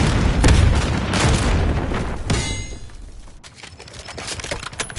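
Grenade explosion in a military shooter game: a loud, close boom with heavy low rumble and crackling debris, then decaying into a softer tail with further distant thuds.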